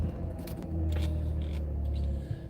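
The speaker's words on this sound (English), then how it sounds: "I've just started up the vehicle" A push-button start car engine turning over and settling into a low, steady idle rumble, heard from inside the vehicle, brief and moderately quiet with no talk.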